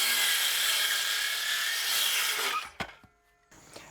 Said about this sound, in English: So let's cut a 2x4 to 42 inch.